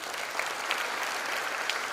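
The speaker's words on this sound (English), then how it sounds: "please give them a big applause." Audience at a university freshers' induction program claps in steady, dense applause that fills the whole moment, with no voices over it.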